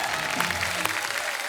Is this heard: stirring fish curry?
no